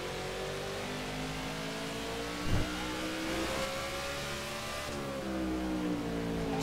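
Engine of a NASCAR stock car in NASCAR The Game: Inside Line, a steady droning motor whose pitch falls as it brakes into a corner, a brief thump partway through, then the engine rising again on the gas, with no talk.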